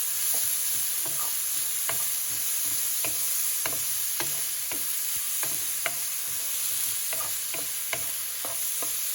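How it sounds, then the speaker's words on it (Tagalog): Pork frying without oil in a pan for carbonara, a steady bright sizzle with scattered pops and crackles, close and continuous, alone without talk. "Imimix lang natin siya and wait lang nating maging crispy na parang bacon yung pork"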